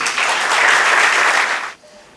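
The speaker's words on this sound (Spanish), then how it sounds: "Recibamos con un fuerte aplauso" Audience at an architecture colloquium bursts into loud, dense applause, a sustained roar of clapping that cuts off abruptly near the end, leaving quiet room tone.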